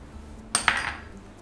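Two quick metallic clinks of a spoon against a pan as spoonfuls of gram flour go in with warm ajwain, close and fairly quiet, followed by a soft settling hiss.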